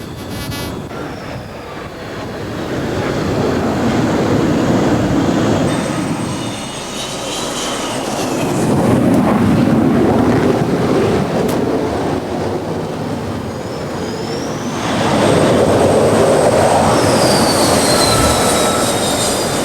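Jet aircraft making arrested landings on a carrier flight deck, a loud roaring engine rush that swells, dips and surges again over about twenty seconds, close and continuous with no talk.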